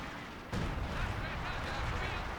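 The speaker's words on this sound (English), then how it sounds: "artillery's now coming in on them" Artillery barrage from a Company of Heroes 2 match on a 4v4 Steppes map, British guns shelling German troops: a sudden dense roar of explosions starts about half a second in and rumbles on continuously, loud and close, with a voice talking underneath.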